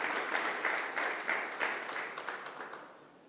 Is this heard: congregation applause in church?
yes